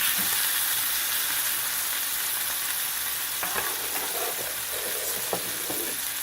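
Steak frying in a hot pan, a loud continuous sizzle and hiss close up, with a few brief crackles and light clatter toward the end and no talking.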